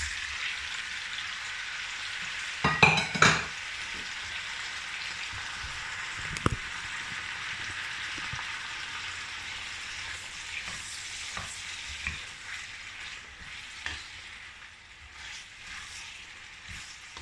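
Tomatoes with a pinch of salt fry and simmer in a pan, giving a steady close sizzle throughout with a few louder stirring scrapes early on and softer clinks later, no talking.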